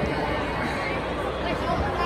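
Steady crowd murmur at a volleyball nationals event, a dense indistinct babble of many voices filling the space at a constant level throughout.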